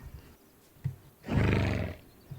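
A loud horse snort or whinny in the game This Land is My Land bursts out for about a second, preceded and followed by faint thuds and quiet background.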